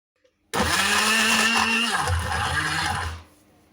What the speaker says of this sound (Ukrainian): І це все треба перемолоти, перетерти.